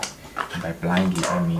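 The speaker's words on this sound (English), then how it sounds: "If you hear a dog barking" Amid excited speech, a dog barks and yips in short bursts, close by and loud, partly tangled with the talking voice.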